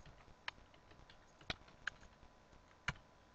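Typing on a computer keyboard while coding, with four sparse, distinct key clicks spread over a few seconds against faint background hiss.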